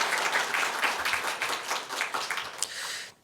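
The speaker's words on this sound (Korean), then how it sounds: "우리 환영합니다 하면서 박수하겠습니다." A church congregation applauds during a Sunday service to welcome a new youth pastor, a steady wash of many hands clapping for about three seconds before stopping abruptly.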